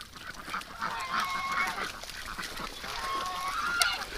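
Ducks call over wet, marshy ground, giving faint, intermittent honking quacks at a distance under a constant outdoor background hiss, with no talk.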